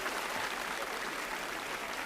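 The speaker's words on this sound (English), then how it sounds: "A huge round of applause for our friend" Applause follows a live online session on flame keying tips, a steady wash of clapping at moderate level that holds evenly throughout with no voices over it.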